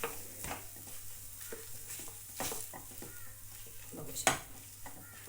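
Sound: sautéing potato filling in a pan

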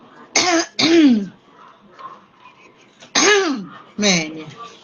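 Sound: throat clearing and coughing

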